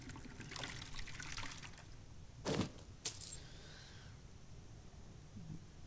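Water pours into a cup or tankard as a refill inside a Skyrim tavern, a brief trickling splash with a light clink, heard faintly over quiet room ambience with no talk.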